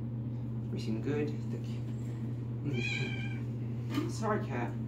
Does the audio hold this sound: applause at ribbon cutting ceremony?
no